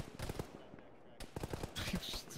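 Rapid gunfire bursts crackle in a military tactical shooter game, irregular volleys of shots at moderate volume with some faint voices mixed underneath.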